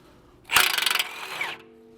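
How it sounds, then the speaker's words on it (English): A pneumatic impact wrench with an 18mm socket hammers for about a second on a stuck tie rod nut of a Volvo XC90, a loud, close, rapid rattling burst that stops abruptly in a quiet garage. "We're going to zap this with the 18mm socket first on the impact just to see if it's already stuck enough where it'll come out."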